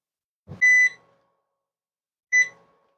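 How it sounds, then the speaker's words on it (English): An oven timer beeps twice at halftime while a meatloaf of beef, butter, bacon and eggs bakes, two loud, clear electronic tones about two seconds apart in an otherwise quiet kitchen. "So this has just beeped to indicate halftime."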